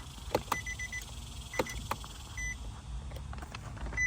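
Two sharp clicks come from the push-start button of a 2007-2012 Nissan Altima, followed by soft electronic beeps and small mechanical ticks as the ignition switches on, quiet and close in an otherwise still cabin.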